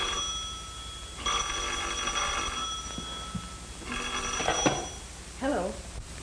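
An old-fashioned telephone bell rings in two loud bursts with a pause between them, in an indoor scene from a 1939 crime drama, followed by a voice speaking briefly.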